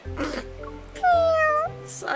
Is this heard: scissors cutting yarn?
no